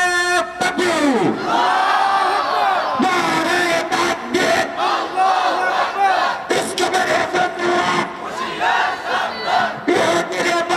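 A crowd raises a loud collective chant of the Nara-e-Takbir slogan at a Bengali religious gathering, with repeated voiced bursts of shouting and answering calls that fill the whole stretch at close range.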